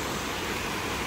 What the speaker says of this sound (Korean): 물소리가 아주 그냥 시원하게 들려서 물소리도 들으시라고 같이 이렇게 했습니다